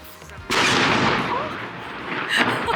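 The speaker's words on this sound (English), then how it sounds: "Oh my god, this cannon's going off." A loud cannon blast fires from the roof of a hall in Bergen, Norway, booming suddenly and then ringing and echoing broadly across the city, with a second swell near the end as birds react.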